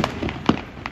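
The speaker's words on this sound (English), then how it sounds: "I got two huge fireworks left" Fireworks go off at a Fourth of July celebration. Several quick sharp pops and crackles land in rapid succession, close and fairly loud, all within about a second.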